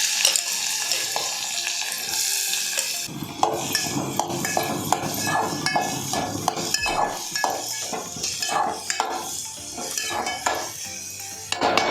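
Chopped onion hitting hot oil with green chillies for pokla (amaranth) bhaji, a steady close sizzle with repeated clinks and scrapes of a spoon stirring against the pan, no talk.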